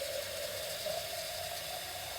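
Tap water runs steadily into a small Ninja blender jar, filling it about halfway, a continuous close rushing stream with a faint hum underneath.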